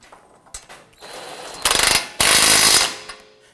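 A ratchet snugging down a ball joint nut on a 2015-2020 Ford F-150 front suspension, a few close clicks followed by two loud bursts of rapid ratcheting, the second longer, ending in a fading rattle.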